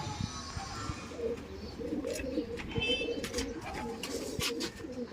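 Punjabi pigeons coo in repeated low, throaty calls close by, with faint chirps and light background noise mixed in.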